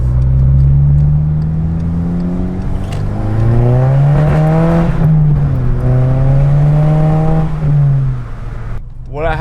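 A Volkswagen Mk6 GTI with a catless downpipe exhaust rushes past, its loud raspy engine note rising and falling as it revs through the flyby before dropping away, with a sharp burble at the end.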